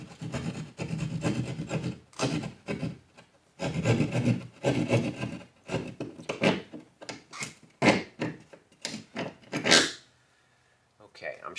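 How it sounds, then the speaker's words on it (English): A keyhole saw cuts through a wall toward a wooden stud in rapid bursts of rasping back-and-forth strokes, close and fairly loud, pausing briefly between runs before stopping near the end. "I'm just going to use my keyhole saw to go over to this stud"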